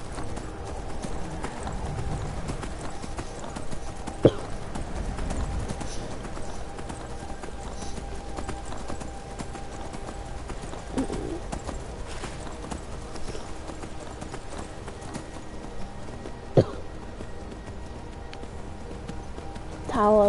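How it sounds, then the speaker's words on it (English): Donkey hooves clip-clop at a steady walking pace in the video game Skyrim, soft and continuous under ambient game noise, with a few faint clicks along the way. "Donkey."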